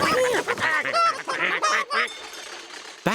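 Cartoon farm ducks make a series of loud, close honking quacks one after another, filling most of the short stretch.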